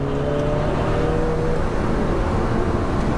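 An Alfa Romeo 4C Track Edition sports car engine accelerating hard in dynamic mode, a loud, steady close-up engine roar with rising harmonic tones that holds throughout and carries no talk.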